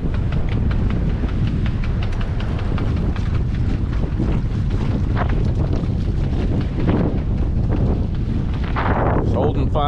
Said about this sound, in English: It's blowing like 25 right now. Gonna increase gusting to 40 apparently.